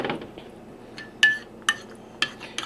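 A teaspoon of Native Forest coconut milk powder tipped into a cup, giving a few sharp, isolated metallic clinks of spoon against the rim, spaced about half a second apart, close by and fairly quiet.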